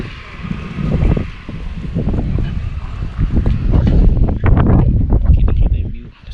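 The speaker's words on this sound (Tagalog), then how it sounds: "lakas ang hangin" Strong wind roars steadily over an open space in the Cordillera mountains, with loud gusting rumble and buffeting against the microphone throughout.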